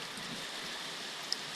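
Heavy typhoon rain pours down in a dense, steady hiss, with wind adding a continuous broadband roar and no voices.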